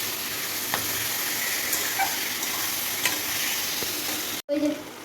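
Prawns fry in a pan for a malai curry with a continuous bright sizzle and occasional stirring scrapes, loud and close, cut briefly near the end before the sizzling resumes.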